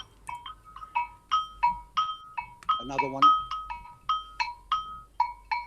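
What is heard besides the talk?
agogo bells struck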